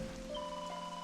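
Rain falls in the video game Dragon Quest XI S, a faint steady patter lasting about a second, under sustained tonal music with no speech.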